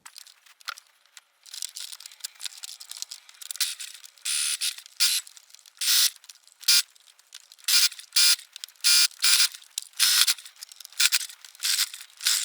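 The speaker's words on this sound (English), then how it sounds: "I'm going to take this to the sewing machine and I'm going to attach these together" Bursts of rapid mechanical whirring start and stop irregularly, a sewing machine stitching sweater fabric in short and longer runs, fairly close with no talking.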